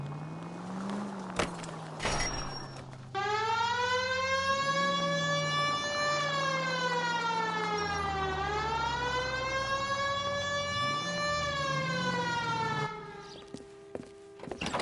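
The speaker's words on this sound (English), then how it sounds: "Hit the siren." A police car siren in the L.A. Noire video game wails with rising and falling sweeps over a car engine's drone, loud and continuous for about ten seconds before cutting off.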